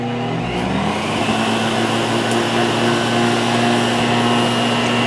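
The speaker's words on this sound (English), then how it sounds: "I'm going to turn on my machine." A kitchen blender runs continuously on cocoyam for ekwang, a steady loud motor whir with a constant hum, close and unbroken throughout.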